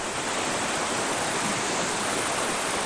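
Laurel Creek in Tennessee rushes beneath a trail bridge into a rocky canyon, a loud, unbroken wash of flowing water filling the whole stretch with no voices.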